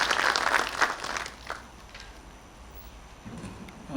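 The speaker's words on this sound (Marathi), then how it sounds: "आपण सर्वजण टाळ्या वाजवून स्वागत करूया" Applause from an audience at a university health-sciences workshop in Nashik, welcoming a guest: a burst of clapping fades to quiet within about a second and a half, with faint rustling afterward.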